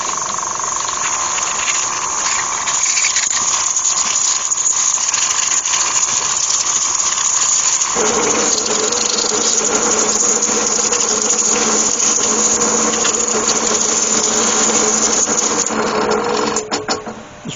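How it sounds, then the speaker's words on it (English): An airbrush blows dust out of the holes of a honeycomb resin bowl, a loud continuous hiss of air over a buzzing, rattling mechanical drone that shifts pitch midway and cuts off at the end. "I do have a airbrush, and I better find out whether that's strong enough to blow that dust out of there."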